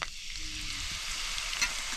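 Curry leaves crackle and sizzle in hot oil for a crab curry cooked on a traditional wood-fired stove, a loud steady hiss with a sharp pop near the end and no talk.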